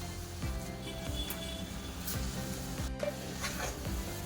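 Coconut sweet mixture for coconut vadi being stirred and sautéed in a pan, with a steady close sizzle and repeated scraping stirs running throughout.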